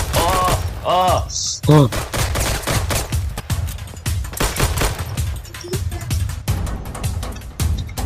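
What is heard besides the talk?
machine gun fire in a video game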